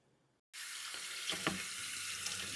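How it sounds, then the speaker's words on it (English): Blanched okra is rinsed under a cool kitchen tap: after a brief silence, the water turns on abruptly and pours in a steady, close hiss that runs to the end. "time to get it out of here and rinse it off in some cool water"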